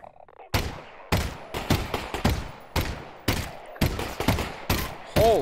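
Gunfire in Half-Life: Alyx as a player shoots at an enemy's fire tank: about ten loud, sharp shots in an uneven rhythm, each ringing briefly before the next.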